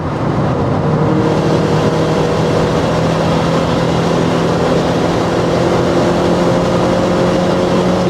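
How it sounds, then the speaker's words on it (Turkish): Modified 260 HP Opel Corsa OPC with an external wastegate accelerating, a steady loud engine drone with a rising whine running continuously close by, no speech. "External'la beraber tabi motor için artık sesler farklılaştı"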